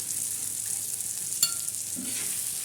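Red chili powder and salt are sautéed in a pan for a bitter gourd dish, producing a soft, even sizzle with one brief utensil tap partway through and no talking.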